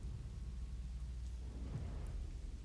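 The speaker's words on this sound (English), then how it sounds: "here's the rain." Rain in the game Manor Lords falls steadily, with low thunder rumbling beneath it in a continuous, moderately quiet wash without voices.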